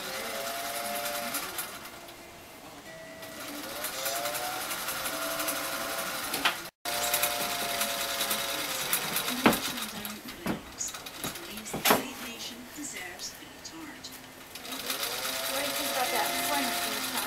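A sewing machine pieces a quilt in bursts of fast, rhythmic stitching close by, pausing between runs, with faint room clatter and brief handling knocks in the gaps.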